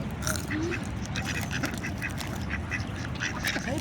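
Ducks quack repeatedly in a park, clustered calls rising over a steady outdoor background with other birds faintly mixed in.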